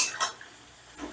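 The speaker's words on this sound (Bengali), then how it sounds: "বড়াগুলো ভেজে নেব, মানে পকোড়াগুলো ভেজে নেব" Semolina pakoras sizzle in hot oil while being turned, with a soft steady frying hiss broken by a few light utensil clicks and scrapes near the start and end.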